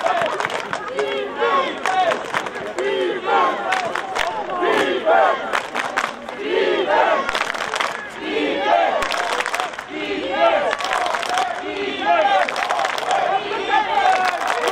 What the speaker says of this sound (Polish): Krzyczymy defense i klaszczemy trzy razy wszyscy.